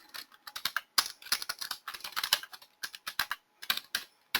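Rapid, irregular bursts of sharp clicks from typing on an on-screen keyboard in a products and services management interface, close and fairly crisp, continuing in short flurries with brief pauses and no voices.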